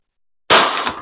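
A single sharp, loud shot from a PCP air rifle run on CO2 through an angled adapter, an abrupt crack followed by a short decaying tail, with no talking.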